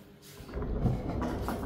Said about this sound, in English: And now I put the sliding barn door in there.